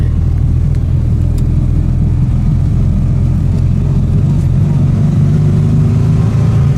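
Steady loud engine drone from a vintage Panhard PL17 car driving with a cold gearbox, a continuous close-up rumble that holds fairly even throughout with no clear rise in revs.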